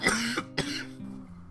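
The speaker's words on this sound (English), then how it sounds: "Oh, excuse the coughing." Two harsh, close coughs in quick succession from one person indoors. A short throaty tail follows, and no one speaks.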